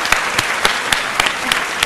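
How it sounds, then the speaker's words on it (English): Audience applause after a call to honour a participant's mother at a formal Intelligence Squared debate, a dense, steady round of clapping from a large crowd, close and loud, filling the whole moment without talk. "just ask for a round of applause for Zeba's mum"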